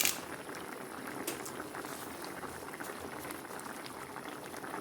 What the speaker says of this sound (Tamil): இங்கே பாருங்கள், நல்லா கொதி வருது.